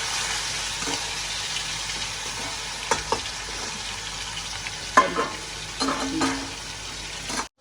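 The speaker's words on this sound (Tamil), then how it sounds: "அடுப்பில் வந்து எண்ணெய் விட்டுருக்கோம் இப்போ நாங்கள் சிக்கனை வந்து பொறிச்சு எடுப்போம்" Chicken pieces fry in hot oil on a stove, a steady soft sizzle with scattered pops and occasional stirring clinks, close and moderately quiet.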